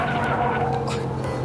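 A car braking hard on an off-road driving course, with a continuous loud roar of tires skidding and engine noise for the whole stretch, close by, with voices faintly underneath.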